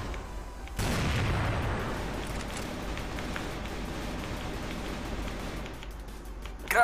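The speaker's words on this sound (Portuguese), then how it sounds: "Granada de fumaça" A smoke grenade goes off in the CrossFire shooter game, a sudden loud burst followed by a long hissing, rushing spray of smoke that slowly fades, heard alone.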